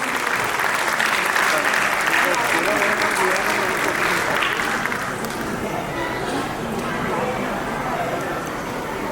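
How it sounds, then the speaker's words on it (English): Sustained applause from an audience gathered at a school event, loud and steady throughout, fading slightly toward the end as a welcome for a speaker. "Let us welcome her with a big round of applause."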